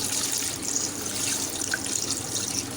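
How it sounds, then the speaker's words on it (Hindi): About four glasses of water being poured into a pressure cooker for shami kabab, a steady hissing splash of running liquid throughout, fairly close and continuous. "इसके अलावा हम इसमें पानी डाल देंगे तकरीबन 4 गिलास"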